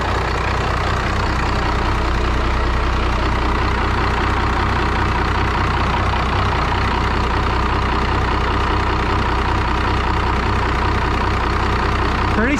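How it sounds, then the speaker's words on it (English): The diesel engine of an abandoned Lincoln Continental motorhome idles steadily and loudly, a constant low rumbling drone with slight knocking vibration and no break throughout. "for a diesel, they're always kind of noisy and vibrate a lot anyways."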